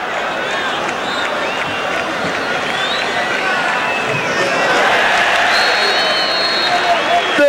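Stadium crowd of Ponte Preta supporters in Campinas at half-time of a 1998 Brazilian league match, a sustained dense roar of booing and shouting that swells slightly toward the end, with a commentator talking over it.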